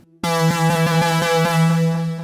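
A sustained buzzy synth tone without FM envelope modulation, with a steady low pitch and rhythmic pulsing accents, smooth and fairly clean, playing alone.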